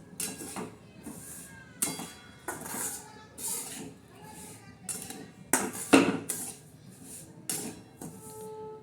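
Semolina dry-roasted in a pan for sweet jaggery and wheat-flour puris, stirred with a metal spoon, making repeated clinks and scrapes in an uneven rhythm, close and fairly quiet, with no talking.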